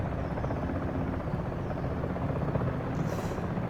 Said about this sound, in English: Those sounds of the helicopter.